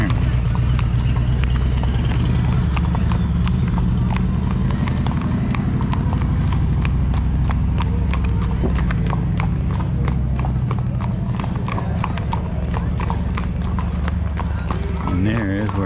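Steady clip-clop of horse hooves on pavement, a regular trotting rhythm heard up close during a trail ride over a loud, constant rumble of background noise.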